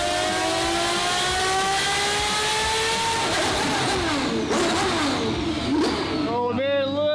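A twin-turbo Ferrari F12 built to about 1500 hp revs on a dyno, a loud, continuous engine note climbing in pitch, then dropping and wavering near the end, with voices talking over it.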